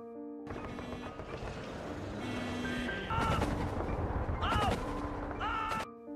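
Dense battle noise of gunfire and booming blasts in 1945 Berlin, with whistling tones and rumbling over a chaotic background, fairly distant and continuous.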